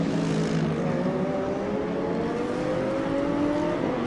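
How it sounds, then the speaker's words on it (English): A Mercedes GT race car growls past at speed on the Spa endurance track, a steady loud engine drone with a slowly sliding pitch under the ambient track noise. "Mercedes growls by, back up into 7th place."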